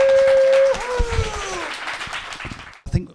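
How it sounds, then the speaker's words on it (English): An audience applauds as a band is welcomed to a music college masterclass. A sustained tone cuts off, then a dense, fairly loud wash of clapping follows that thins out toward the end. "We should really start with a round of applause."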